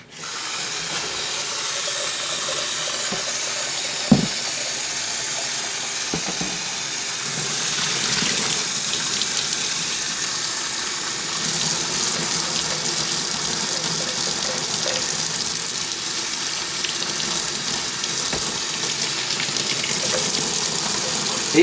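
Standard tap water runs steadily into a sink to clean a spray gun, making a constant close hiss and splash that swells slightly partway through, with a single brief knock.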